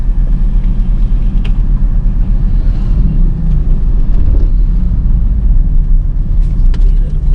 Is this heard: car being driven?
yes